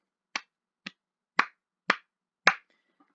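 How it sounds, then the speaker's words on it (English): Five crisp, isolated hand claps land about half a second apart in otherwise total silence, close and dry, like a slow, sparse round of applause. "Round of applause."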